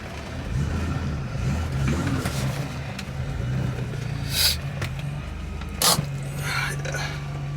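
A car with a modified front end revs in first gear, its engine note rising and falling over a mechanical hum, with a couple of sharp clunks and brief breaks.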